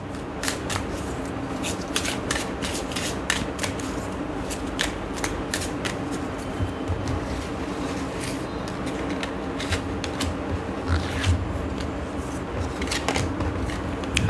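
Divine guidance cards are shuffled continuously and close up, a steady stream of soft flicking, riffling card sounds with no talk.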